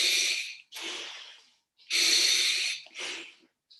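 Breathing through a scuba diving regulator: two loud hissing inhalations, each followed by a softer exhalation, close and alone with no talk.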